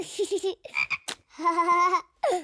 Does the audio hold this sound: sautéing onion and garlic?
no